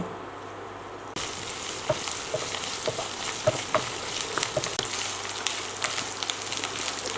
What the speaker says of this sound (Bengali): আমার ভাজা প্রায় শেষ।